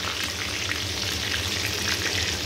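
Ingredients for chicken kabsa frying in a pan, a steady loud sizzle and crackle with faint stirring, continuous and close without any talking.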